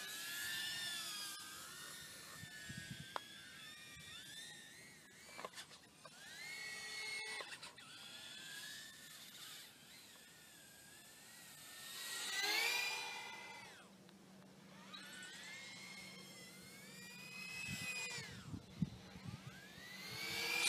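High whining buzz of a TurBowing Aurora 90mm brushless RC racing drone in flight, pitch sweeping up and down with throttle changes, fairly faint and distant with occasional clicks.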